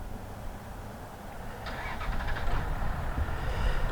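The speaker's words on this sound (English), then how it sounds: "There, neighbor's starting his pickup again here," A neighbour's pickup truck engine cranks and catches at a distance, rising from faint rumbling into a steadier running drone over a soft outdoor background, with no speech.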